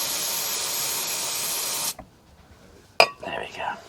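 Freeze spray blasts onto a rusty bolt on a Ford Focus Mk1 1.4/1.6 engine in a steady, loud hiss for about two seconds, then cuts off, followed by a sharp click and a short fainter hiss.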